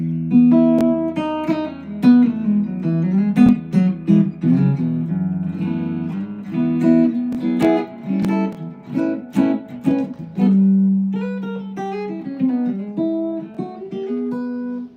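A hollowbody guitar's piezo pickup played solo, bright plucked notes and chords with a thin, acoustic-like attack, steady and close, no voices.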